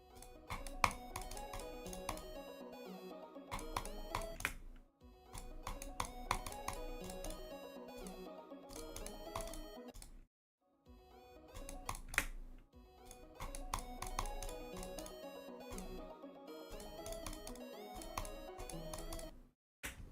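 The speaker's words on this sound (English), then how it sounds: "Our little lake of my keyboard inputs are very loud now for some reason." Loud computer keyboard keys pressed during a gaming session, clattering close up in rapid, dense bursts separated by brief silent gaps.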